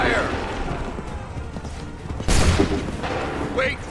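A musket volley from Assassin's Creed 3 crashes out as one loud, dense burst of massed gunfire partway through, over a constant battlefield rumble with shouted commands.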